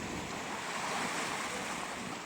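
Big ocean waves breaking on a Canadian shore, a continuous close, dense roar of surf with no voices over it.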